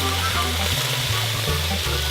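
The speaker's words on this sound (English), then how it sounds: "we're going to add some olive oil, onions, celery, and carrots. And we're going to saute these for 2 minutes" Onions, celery and carrots sautéing in olive oil give a steady, close sizzle with a constant frying hiss and faint stirring, with no talk over it.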